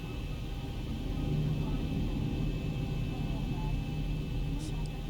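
An airliner taxiing in the X-Plane 11 flight simulator, cockpit view, a steady low engine drone and rumble with a thin constant whine that continues evenly throughout.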